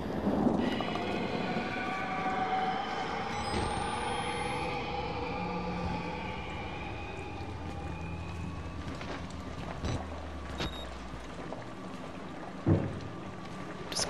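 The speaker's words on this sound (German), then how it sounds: "jetzt donnert's auch noch" Thunder in the horror video game Outlast rolls as a long, low rumble that fills the scene, with a few sharper cracks and thuds near the end.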